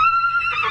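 A horse whinnies in a recording of horse vocalizations, a loud, continuous high neigh with a wavering pitch that rises into a brighter, rougher cry near the end, heard alone and close.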